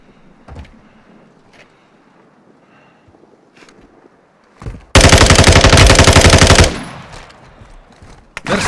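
Loud, sustained automatic gunfire from a firefight in the Warzone 2.0 video game, a dense burst of nearly two seconds that cuts in sharply after quieter ambient rumble and isolated distant shots.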